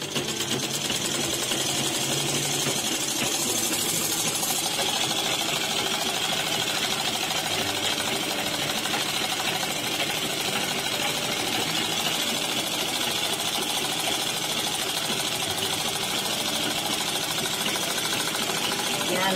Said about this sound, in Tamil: எலாஸ்டிக் போடுறதுக்கு நடுவில் ஒரு தையல் போட்டுருவோம்.